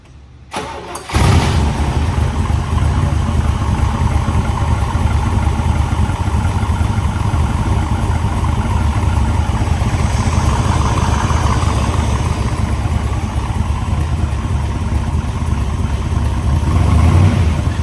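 A 1967 Chevrolet Corvette convertible with a 427 V8 in tip-top mechanical condition cold starts with a short crank and catch, then settles into a loud, steady, rumbling idle that runs on without talk.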